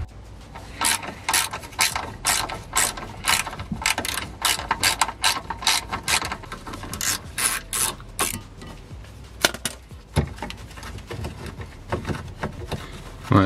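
Ratchet wrench undoing bracket bolts on a Mini Cooper, a rapid series of close clicking pawl bursts in repeated strokes, loud and alone, tapering into scattered clicks and knocks toward the end.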